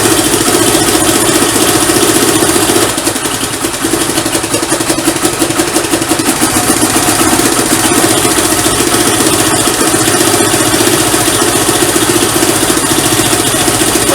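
A Kovi 300 Advance motorcycle engine idling right after a kick start, loud and close with a steady throbbing rumble that holds evenly throughout, with no talking.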